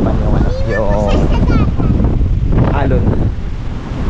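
Strong northeast monsoon amihan wind gusts across Casapsapan beach in Casiguran, Aurora, roaring loudly into the microphone with surf beneath, while a voice talks over it.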